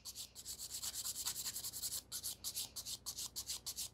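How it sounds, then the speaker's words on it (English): Gel nail extension being filed all over its surface, a steady rhythmic rasping of quick back-and-forth strokes, close and fairly soft, with no talking. "so I'm just filing all over"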